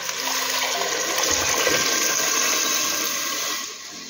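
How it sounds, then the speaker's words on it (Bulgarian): Hot water poured steadily into a soup pot of potatoes sautéed in butter, a continuous close splashing rush that holds for about three and a half seconds and then eases off. "Заливам с гореща вода."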